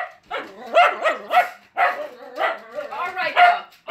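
A dog with severe anxiety barks and yips repeatedly in close, loud bursts that come in quick clusters with short pauses, whimpering in between.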